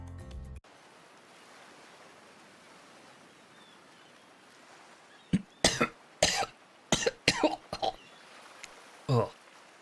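Soft, steady surf from ocean waves on a beach in a video game washes on as a faint background hiss, then repeated coughing and throat clearing cut in over it.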